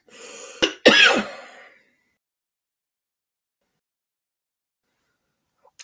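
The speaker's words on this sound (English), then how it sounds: "forgive the cough." A person coughs sharply, then clears their throat with a harsh rasp lasting about a second, close to the microphone, followed by a long silence.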